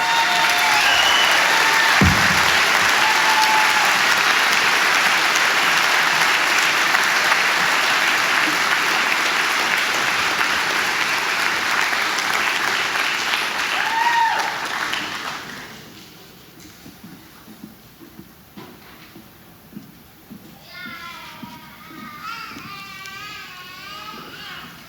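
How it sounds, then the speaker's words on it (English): Loud sustained applause from a large audience at a Fairfax County Fire and Rescue recruit class graduation, filling the first fifteen seconds before dropping away to quiet room noise with a few scattered claps. "And one more round of applause for the Mayhem family"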